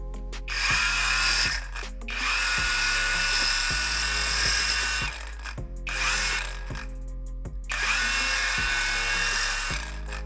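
A safety pin tip being sharpened on a small rotary tool, a high whirring grind in several bursts with brief pauses and a steady motor hum underneath, close and loud, no speech.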